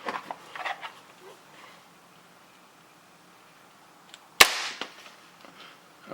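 A custom Hi-Capa airsoft pistol fires a sharp, close snapping shot after a quiet pause, with softer clicks and handling noises around it.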